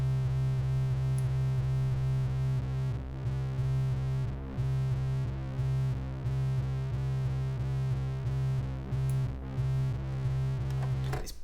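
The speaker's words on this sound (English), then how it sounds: "The fine tune plus the interaction of the pulse width modulation is causing that kind of staccato sort of sound going on." An Arturia Jupiter 8V software synth preset holds a tone that stutters in a fast staccato pattern, caused by fine tuning and pulse width modulation. The bright, steady pulses repeat with no voice over them.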